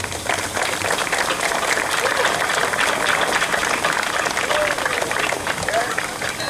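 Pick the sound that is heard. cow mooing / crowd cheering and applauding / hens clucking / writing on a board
crowd cheering and applauding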